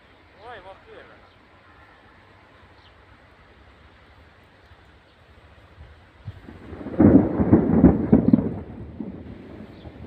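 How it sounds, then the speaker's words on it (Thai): Thunder rumbles with rain during rice sowing in a stormy field, a deep roll swelling loud midway after quieter rain-filled moments, with a voice speaking briefly near the start. "บรรยากาศขึ้นฟ้าขึ้นฝนฮะ"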